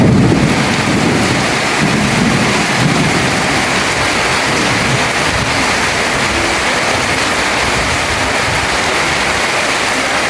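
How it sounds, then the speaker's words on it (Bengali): A downpour of heavy rain in Mirpur 1, Dhaka, hisses steadily and loudly throughout, with a low thunder rumble rolling underneath in the first few seconds before the rain carries on alone. "মোটামুটি ভালো বৃষ্টি হচ্ছে।"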